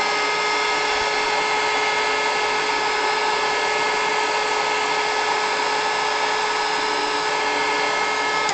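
A heat tool blows continuously over crayon coloring, a steady loud whirring hum of the fan and heater with no pauses, close to the microphone and without speech.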